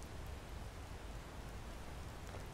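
Steady rain falls in the Skyrim game world, a constant even hiss of drops filling the scene with no voices over it.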